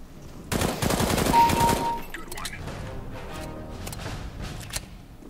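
Suppressed MP5SD gunfire in CS:GO: a dense rapid burst of shots for about a second and a half, followed by scattered quieter shots and game noise, with a player's voice over the action.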